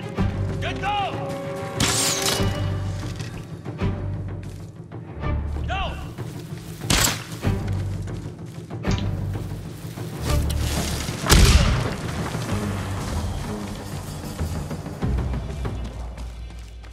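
Gunfire in Ghost of Tsushima, a few heavy booming shots spread over a busy game soundscape, with characters talking between the blasts.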